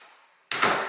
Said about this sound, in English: So it's two doors to open up the closet.